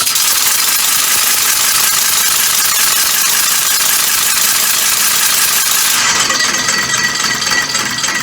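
A homemade compressed-air motor on a bicycle runs steadily at around 125 psi, a loud continuous mechanical clatter and hiss with no break, its tone shifting slightly toward the end.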